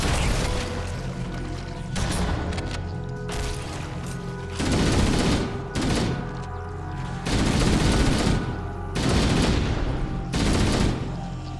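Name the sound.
gunfire in the video game Halo: Combat Evolved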